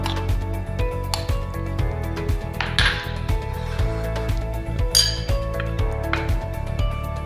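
A spoon stirs crostini topping seasoned with pepper in a bowl, giving quick, continuous clinks and scrapes close by over a steady low hum, with a few brighter knocks against the bowl's rim.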